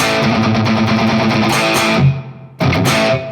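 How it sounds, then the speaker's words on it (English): Electric guitar through a Valeton GP-200X with plate reverb, a loud distorted chord passage that cuts off and rings into reverb before a fresh strum resumes; no voices. "We're putting on the plate reverb."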